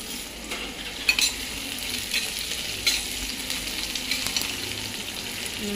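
Mustard seeds, cumin and small chopped onions fry in a pan for upma, giving a continuous crackling sizzle broken by a few louder spoon clacks and stirring scrapes, close and without speech.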